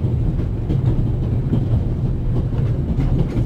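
A train running in the video game The Raven Remastered, a steady loud rumble with faint rhythmic clatter throughout and no voices.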